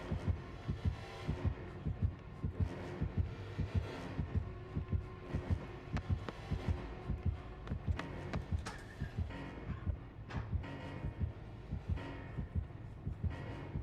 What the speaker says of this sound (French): Voilà, j'ai les battements de cœur qui augmentent